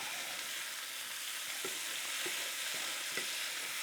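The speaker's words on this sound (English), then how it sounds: "Then give that another little stir." Zucchini with seasonings being stirred in a hot pan: a steady broadband sizzle with a few soft scrapes of the utensil, close and continuous, with no talking.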